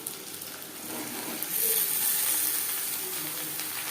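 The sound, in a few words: chillies frying in oil in a pan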